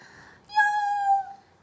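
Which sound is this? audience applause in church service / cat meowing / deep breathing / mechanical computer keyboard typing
cat meowing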